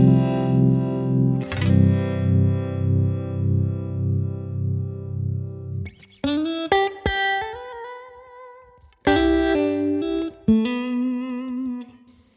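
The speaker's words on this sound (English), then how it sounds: "I want to hear this harmonic trem." Electric guitar run through the harmonic tremolo of a Neural DSP plugin: a sustained chord with a slow pulsing throb, then a few sharper plucked notes and chords ringing out alone, close and clean.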